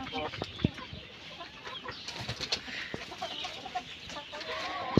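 Layer hens in a home shed with freshly laid bedding cluck softly and intermittently. The short calls are faint and scattered over low background noise.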